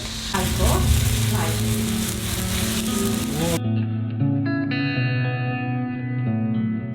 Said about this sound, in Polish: Jak widać nasza jagnięcina już się tutaj ładnie rumieni